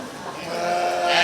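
Sheep bleating in a barn at a 4-H livestock judging contest at a county fair, a single drawn-out bleat swelling louder toward the end amid crowd noise and faint voices.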